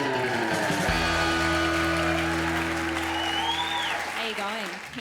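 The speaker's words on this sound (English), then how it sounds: "start the clapping, build it up, and go nuts for Becky" Audience clapping and cheering for a stand-up comic's entrance at a late-night comedy festival show, building under a sustained musical sting and an announcer's voice, then tapering as the comedian begins.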